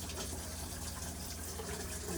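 Water runs steadily from the tap into a newly installed single sink in a Winnebago Navion, a quiet, continuous gushing with no talking.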